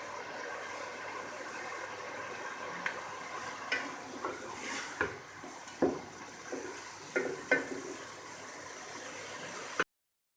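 Onions frying in oil for achari bhindi, a steady soft sizzle under scattered stirring clicks and utensil knocks, fairly quiet and continuous with no talk.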